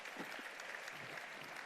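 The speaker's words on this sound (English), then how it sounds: "just that in itself deserves a round of applause" Audience applause fills a TEDx event hall, a steady, dense wash of many hands clapping that holds evenly from start to finish at moderate distance.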